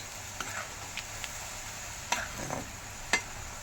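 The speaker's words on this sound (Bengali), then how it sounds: "ভেজে নিচ্ছি কত তেল বাবারে" Soft sizzling of nimki frying in a pan of oil, with occasional scraping and stirring clicks from a utensil, quiet and close.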